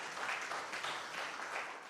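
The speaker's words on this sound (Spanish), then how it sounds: "¿No se merece un fuerte amén el Señor? Y un aplauso también, ¿por qué no?" Church congregation applauding during a sermon, a broad steady wash of clapping that swells in soft waves without any talk over it.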